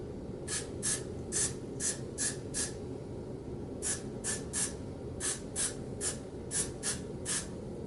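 Short bursts of aerosol spray hiss in quick repeated pumps onto wig lace, close up, in two clusters separated by a brief pause, over a quiet background.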